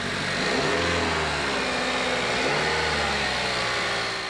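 A 2013 Chevrolet Malibu's 2.5-liter engine rises in a steady acceleration, a continuous mid-pitched roar with a brief shift partway through, heard up close without any talking.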